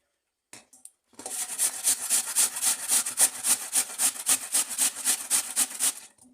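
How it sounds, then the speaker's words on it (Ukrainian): Raw peeled potato is rubbed against a coarse grater in a steady series of about fourteen rhythmic rasping strokes, close and crisp, with no talking over it. "Натираємо її на крупній терці."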